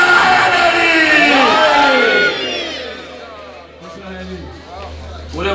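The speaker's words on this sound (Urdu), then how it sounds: "پورے مجمع نے نعرے لگا دیے" Large crowd at a religious gathering for the 5 Shaban celebration in Lahore, chanting slogans together in a loud, dense roar that fades after a couple of seconds into murmur and speech.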